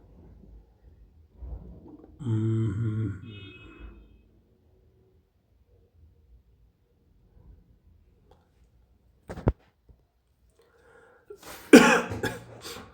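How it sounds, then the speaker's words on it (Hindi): Mostly quiet, with a soft vocal sound early on, then a sharp short noise and a burst of harsh coughing near the end. "खांसी है।"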